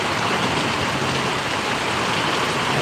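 Steady, loud rain pours down in Paravadi village in Gariyadhar taluka, a dense unbroken wash of drops striking surfaces close by with no voices.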